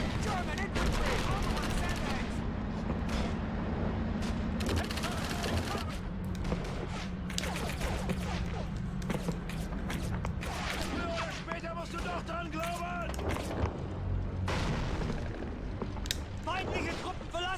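Gunfire in Call of Duty 3, with dense bursts of shots and rattling volleys repeating over a continuous battle din, while voices talk and shout throughout.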